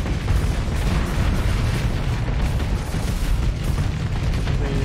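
Space station blowing up in the video game Starsector, a dense continuous roar of rumbling explosions and booms, loud and sustained.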